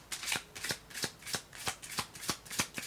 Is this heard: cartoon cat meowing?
no